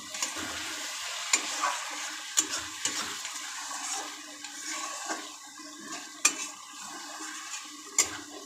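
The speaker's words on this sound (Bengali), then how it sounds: "খুলে নিয়ে আমি আবার একটু নাড়া দিয়ে দেবো" Bombay duck fish and bitter gourd cooking in a pan, uncovered and stirred: a soft, wet sizzle under irregular spoon taps and scrapes against the pan, close and without speech.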